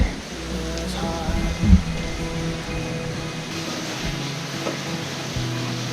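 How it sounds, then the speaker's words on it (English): Running water gushing inside a cave at Pinnacles National Park, a constant broadband rush close by with a low rumble underneath and no speech. "There's running water. You can hear kind of gushing"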